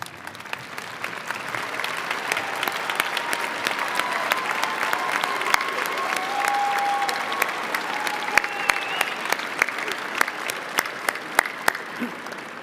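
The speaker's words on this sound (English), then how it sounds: "give a big round of applause to those who have supported your arrival here today" A graduation audience at Ohio University's fall commencement claps in sustained, dense applause filling a large hall, with faint crowd murmur and a few brief tones drifting over the steady clatter of many hands.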